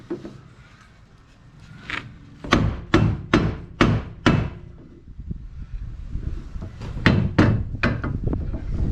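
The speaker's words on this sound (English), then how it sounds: "if I give this a bit of a touch up with the hammer, it just drives it home." Hammer tapping a part into place on a Holden HT Monaro during a mono leaf suspension install, a close series of sharp knocks in two quick runs of about five blows each over low workshop noise.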